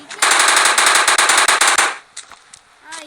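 A loud, rapid burst of machine gun fire rattles for over a second, then a few scattered single shots follow after it stops.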